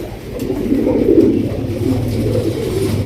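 Pigeons cooing nearby, a male's repeated low throaty coo rolling in soft rising and falling phrases, close and clear over faint background noise without speech.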